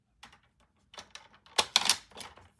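A paper craft panel is trimmed by 1/8 inch on a paper trimmer: a few quiet, short, crisp clicks and slicing scrapes in bursts, with no talking.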